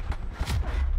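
Gunfire in a Call of Duty match, a dense burst of rapid shots and booms filling the moment, loud and continuous with no talk over it.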